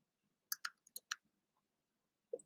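Quick keyboard keystrokes as a name is typed into a form, a short burst of five or six crisp clicks followed by a pause and one more tap, close and quiet with no talking.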